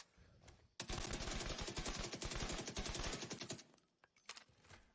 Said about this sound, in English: Which SMG are you shooting right now? This is a UMP 45.